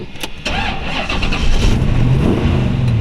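A 1932 Ford Dearborn Deuce High-Boy convertible with automatic overdrive cranks and fires up, then settles into a steady, strong engine run with a slight rise in revs, close and loud, without talk.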